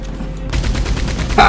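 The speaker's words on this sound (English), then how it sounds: "Gebt mir die Gatling Gun und ich zeig denen, wie es gemacht wird." A Gatling gun fires in the game Red Dead Redemption 2, a dense, rapid burst of gunfire that begins abruptly after a brief quiet lead-in and stays loud and close throughout.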